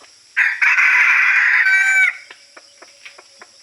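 An old red junglefowl rooster gives one loud, near crow lasting under two seconds, then a few soft clucks and small taps follow in quiet surroundings.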